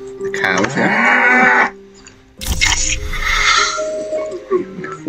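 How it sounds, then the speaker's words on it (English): Cows moo in the Steam version of the board game Castles of Burgundy, giving two loud, drawn-out low calls with a short pause between them. Game chimes sound alongside. "Buy the cows"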